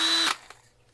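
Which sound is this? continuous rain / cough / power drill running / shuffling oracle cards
power drill running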